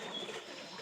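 Pigeons coo inside a pigeon house, a soft, low, rounded murmur that is faint and close, heard only very briefly with no talk.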